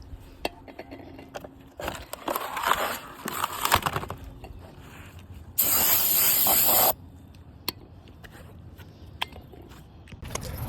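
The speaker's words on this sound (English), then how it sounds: "Spray the rust protected coating off the new rotor." An aerosol can sprays in a steady hiss for about a second, close by, cleaning rust-protective coating off a new brake rotor on a 2020 VW Tiguan, amid scattered clinks and handling noises before and after.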